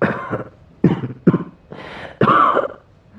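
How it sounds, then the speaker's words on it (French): A few rough coughs and throat-clearing sounds from a game character, close and distinct, spaced out over a few seconds. "Il tousse beaucoup"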